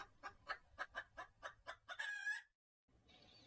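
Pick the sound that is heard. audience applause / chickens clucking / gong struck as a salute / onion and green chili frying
chickens clucking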